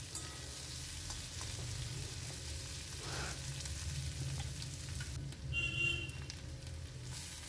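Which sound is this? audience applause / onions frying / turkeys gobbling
onions frying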